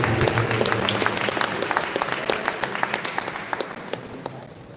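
Audience applause at a live gathering, sharp individual claps standing out over a fuller crowd patter, strong at first and gradually thinning and fading toward the end.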